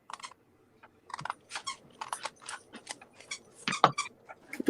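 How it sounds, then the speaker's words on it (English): Scissors squeak and snip close by in an irregular choppy rhythm of short, scratchy cuts, with a few louder squeaks near the end. "It's so funny hearing this squeak."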